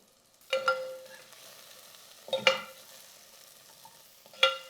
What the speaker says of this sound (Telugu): కొంచెం వేగాక మనము మునక్కాడలు వేస్తున్నాము.